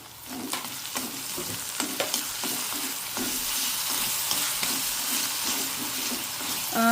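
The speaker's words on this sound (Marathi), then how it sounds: "आता आपण त्याच्यात हे बारीक चिरलेलं टोमॅटो घालून घेऊया कांदा टोमॅटो चांगलं शिजून घेऊ" Chopped tomato added to softening onion in a pan, cooking for a cashew-nut curry, gives a steady sizzle broken by repeated stirring scrapes and clinks, close and fairly loud throughout with no talking.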